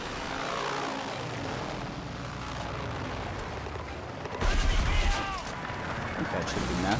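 A helicopter fight in a video game, with a continuous rotor and engine roar, chopping rhythmic texture and a louder burst of gunfire or explosions midway, loud and close throughout.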